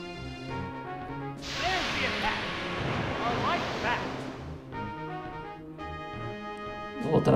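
Waterfall attack in the Pokémon Stadium 2 game: a rushing, crashing wash of water noise swells over several seconds amid game music and sound effects, with a voice talking over it.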